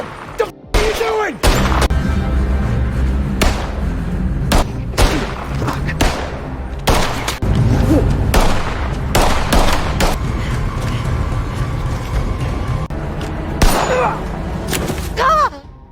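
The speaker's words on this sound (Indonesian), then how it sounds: "Jason yang sudah tak kuat, ia pun malah melesatkan tembakan hingga terjadi peperangan antara gangster FBI dan Robbie" Film shootout between gangsters and FBI agents, with repeated loud gunshots, thuds and bursts of fire scattered through sixteen seconds over a dense action soundtrack, with voices shouting at times.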